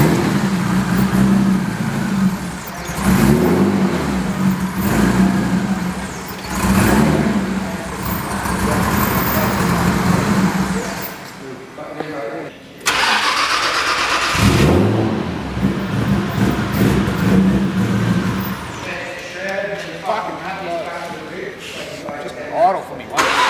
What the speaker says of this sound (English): So we're going to start the car now?